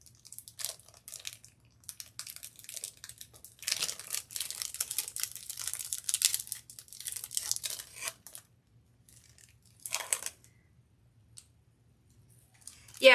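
Scissors snip and tear at the hole in a Christmas ornament, crackly crunching bursts in irregular clusters with quiet gaps between, close up, plus a brief voice.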